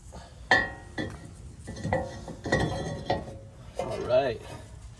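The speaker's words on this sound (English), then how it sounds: "Now I'm just going to put the brake disc rotor back on." Metal brake disc rotor fitted back onto the hub of a Lexus GX470, giving several clanking, clinking metal knocks with pauses between them, close and fairly loud, with no talk.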